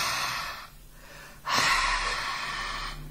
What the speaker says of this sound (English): you will try to pronounce and or create the sound of the regular huh